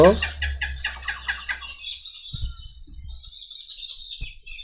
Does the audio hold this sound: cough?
no